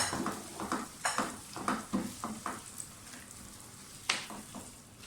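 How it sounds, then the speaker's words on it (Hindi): Eggs and tomatoes frying in a pan with a little ginger for an egg and onion curry, stirred continuously, giving a steady close sizzle broken by repeated spatula scrapes and knocks against the pan. "मुसलसल हिलाते जाएं अंडों को"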